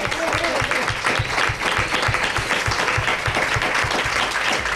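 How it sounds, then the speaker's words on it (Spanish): A studio audience applauds at a radio programme launch event, dense sustained clapping with a steady rhythmic beat running through it, loud and continuous throughout, with no speech standing out. "Que se vea el aplauso"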